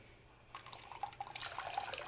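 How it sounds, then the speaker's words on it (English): Water runs and drips into a sink, quiet at first and then a louder trickling and splashing that starts about halfway through and keeps going, with no voices. "Oh, that's a lot of water."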